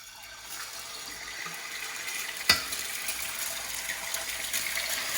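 An egg sizzles in hot oil in a pan beside just-cooked bacon, a steady crackling hiss with one sharp pop midway and no talking.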